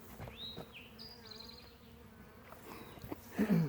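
Several bees buzzing close by, thin wavering hums drifting in and out with faint rustling and a brief louder flurry near the end.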